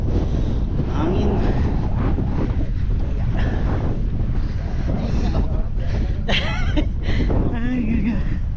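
Steady wind buffets the microphone throughout, a constant roaring rumble with faint voices and brief higher sounds breaking through.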